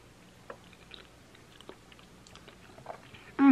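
Someone tasting thick homemade jam off a spoon, with soft close chewing and small mouth clicks spread over a few seconds, quiet and intimate, ending in a brief louder burst.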